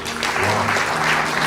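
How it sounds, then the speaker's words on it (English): Audience at a book launch claps in a loud, sustained round of applause, a dense continuous patter of many hands filling the room from start to finish. "Round of applause."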